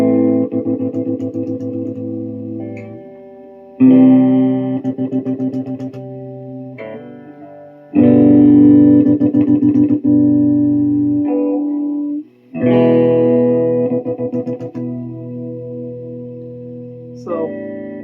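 An electric guitar fitted with a TESI switch modification strums sustained chords in several bursts separated by short gaps, loud and close with a processed, effected tone.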